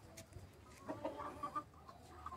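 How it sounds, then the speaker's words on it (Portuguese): A free-range rooster with golden and speckled plumage clucks softly, giving a few short, low clucks spread over a couple of seconds against faint outdoor background noise. "dourado com carijó, galo caipira, maravilhoso"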